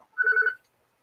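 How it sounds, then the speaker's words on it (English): A single short telephone ring trills briefly and moderately loud, then fades into silence. "Is that a call for you, Dave?"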